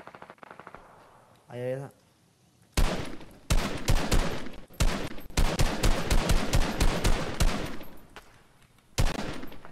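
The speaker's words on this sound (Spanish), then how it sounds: "Alguien está disparando, no sé dónde están." Rapid bursts of automatic gunfire ring out in the video game Fortnite, loud repeated volleys with pauses between them, along with a brief synthetic chime and a short spoken remark.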